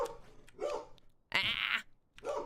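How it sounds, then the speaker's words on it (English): An angry dog barks in two or three harsh, snarling bursts with pauses between them, fairly close and loud, heard alone indoors at night. "Angry dog."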